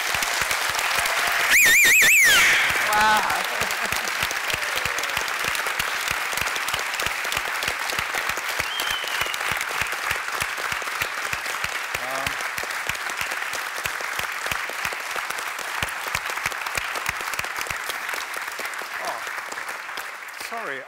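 An audience applauds at a conference event, sustained clapping from a crowd that carries on steadily for about twenty seconds, with one brief exclamation near the start.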